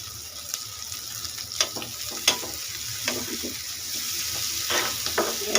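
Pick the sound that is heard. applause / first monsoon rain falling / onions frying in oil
onions frying in oil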